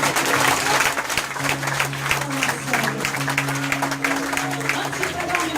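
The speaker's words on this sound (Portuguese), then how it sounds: "Você pode aplaudir a Jesus?" A church congregation applauding, a dense continuous clapping from many people under a sustained musical drone, with faint voices mixed in.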